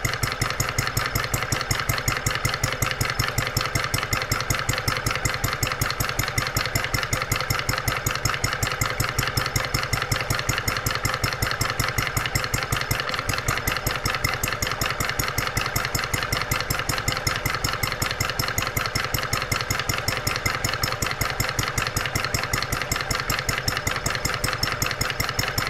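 A brand-new hot bulb horizontal mill engine on its first start runs steadily, giving a fast, even, continuous pulsing chug that stays loud and unchanged for the whole stretch, with no voices.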